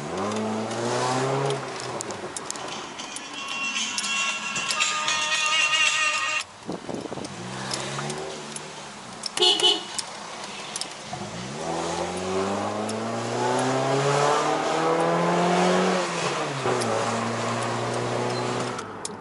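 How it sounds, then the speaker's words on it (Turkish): A modified Honda Civic running on BRC LPG accelerates hard along a highway. The engine revs climb again and again, with brief dips at each gear change, loud and close from inside the car. "Otoban hızlanmasına bakacağız aracın."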